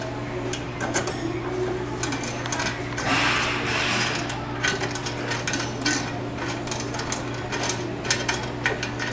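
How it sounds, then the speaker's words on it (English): A key turns counterclockwise through several revolutions in a DT016 cover lock, giving close, rapid metallic ticking and ratcheting clicks over a low steady hum. "You turn the key about 7 revolutions counterclockwise."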